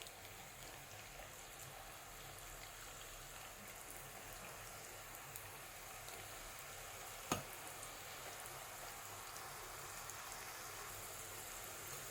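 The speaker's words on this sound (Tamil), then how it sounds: "இப்போ ஒரு கடாயில் ஆயில் வச்சு அது நல்லா காஞ்சாச்சு. இதை இப்போ கொஞ்சம் கொஞ்சமாக போட்டு எடுக்கலாம்." Masala peanuts fry in hot oil in a kadai, giving a steady, even sizzle and crackle throughout, with one sharp click partway through and no talking.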